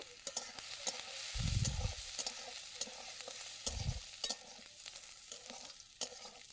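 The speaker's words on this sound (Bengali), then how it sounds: "আদা কুচি দিয়ে দেবো, রসুন কুচি দিয়ে দেবো, দিয়ে এটাকে একটু লাল লাল করে ভেজে নেব।" Chopped ginger and garlic frying in hot oil in a pan for a chicken momo filling. There is a steady close sizzle with two heavier scraping stirs and scattered light clicks, and no talking.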